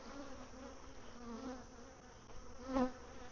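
Honey bees buzz continuously around a hive during feeding with sugar syrup, a close, steady droning hum with a slightly louder swell near the end.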